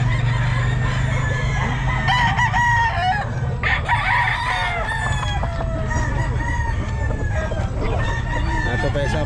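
A gamecock rooster at a busy Bocaue pet market crows loudly and close while other fowl cluck around it, over steady crowd murmur and talk.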